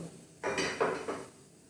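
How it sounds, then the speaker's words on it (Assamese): Pressure cooker set down on a kitchen stove, a couple of short metallic clanks and scrapes close by, followed by quiet. "চাওক, মই কুকাৰটো বহাই দিলোঁ।"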